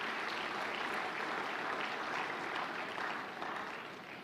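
An audience clapping together in a church gathering, a dense, steady wash of applause that fades slightly toward the end, no voices over it.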